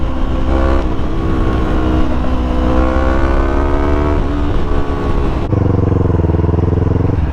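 A Yamaha R3 motorcycle engine revs hard and loud, its pitch climbing steadily through a long pull before dropping off, then settling into a lower, rougher drone.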